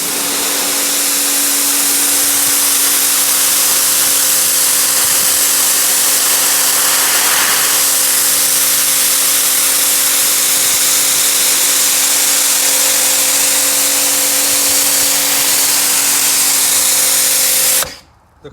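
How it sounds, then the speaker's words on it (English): A pressure washer jet-washes car seats from a salvaged Fiat 500, giving a steady, loud, continuous hiss of spray with a constant motor hum throughout, cutting off abruptly at the end. "a lot of you cringe when you see me with this jet washing seats"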